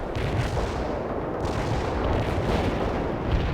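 An artillery strike in the World in Conflict strategy game, with heavy shell impacts piling into a continuous rumbling roar of blasts, loud and unbroken, with no voices.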